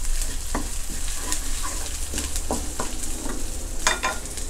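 Crispy pork with chili stir-fries in a pan over a loud, constant sizzle, with scattered scrapes and taps of a spatula stirring close by and no voices.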